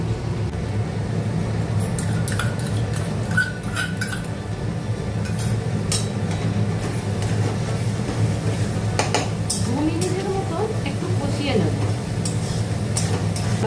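Sliced onion fries over a high gas flame with ginger-garlic paste added, giving a low steady sizzle and hiss, broken by frequent metallic clinks and scrapes of a spoon stirring against the pan.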